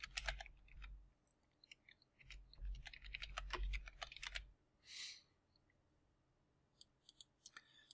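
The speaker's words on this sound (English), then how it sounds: "I'm going to type in remote." Keys clatter on a computer keyboard in short quick bursts of typing, close and fairly quiet, separated by pauses and a few isolated clicks, with no talk over it.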